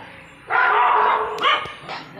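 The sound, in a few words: tied-up dog barking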